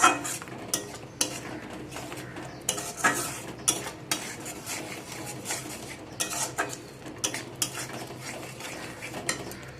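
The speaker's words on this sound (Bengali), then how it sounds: "দিয়ে সব কিছুকে ভালো করে আবারও আমি মিক্স করে নিচ্ছি" A spice paste thinned with a little water is stirred and mixed in a pan for a pointed gourd dish, with repeated metal clinks and scrapes of the utensil over a soft background sizzle.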